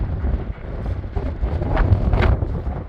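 Strong gusts buffet the microphone on a windy hilltop at the Gettysburg battlefield, producing a continuous loud low rumble with surging peaks and no speech.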